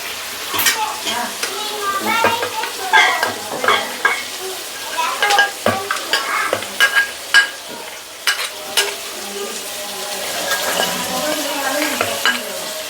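Chilli powder and coriander powder masala is stirred and fried in a pan, with repeated scraping and clinking strokes of a spoon over a soft background sizzle.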